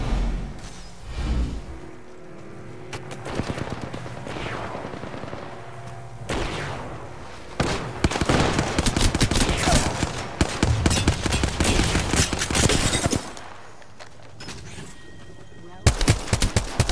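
Heavy gunfire in the video game Apex Legends, with dense overlapping bursts of automatic shots and single cracks, loud and near, coming in waves with short pauses between.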